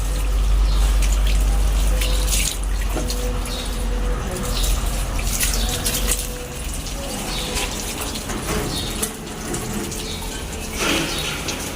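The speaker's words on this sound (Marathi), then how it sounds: "तर इथे आम्ही आता पाणी चालू केलेलं आहे पाईप लावलेलं आहे" Water runs from a garden hose pipe while plants are cleaned, making a continuous loud gushing rush with a faint voice in the background.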